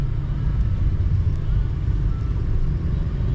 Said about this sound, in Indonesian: Ya ini sedang macet sebentar.